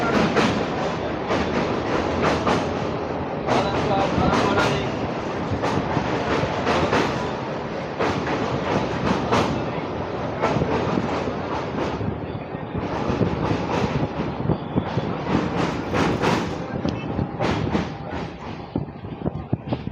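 A train rumbles steadily along the tracks for the whole stretch, loud and close, with a continuous rolling roar and faint rhythmic clatter.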